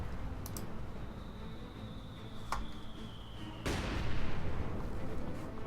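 Mortar bombardment and artillery fire in the Company of Heroes 2 video game: sharp distant reports at the start, then a loud blast near the midpoint that leaves a sustained rumble of gunfire and debris. No talk.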